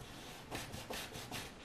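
A paintbrush scrubs acrylic paint onto canvas for an old wooden fence scene, giving soft, close, rhythmic rubbing strokes that repeat about three times, quiet and alone.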